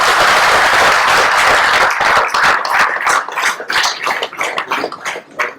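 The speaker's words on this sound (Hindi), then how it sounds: "एक बार जोरदार तालियों से स्वागत किया जाए" A crowd gives loud, sustained applause to welcome Raveena Tandon at the launch of a Tobacco Free Mumbai Police Station campaign. The clapping is dense at first, then thins into scattered, uneven claps toward the end.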